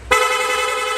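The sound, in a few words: motorcycle horn honking rapidly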